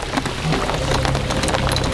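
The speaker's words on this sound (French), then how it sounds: "Non, c'est des grosses gouttes de pluie." Big raindrops patter down at a carp fishing spot on the Great Lakes, a dense close spatter of drops hitting surfaces with a faint low hum underneath and no voices.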